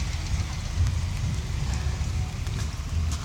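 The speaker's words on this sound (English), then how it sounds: "as you guys can see, it's raining. Known as pouring." Steady outdoor rain pours continuously, a dense, even wash of drops with low rumbling underneath, no voices.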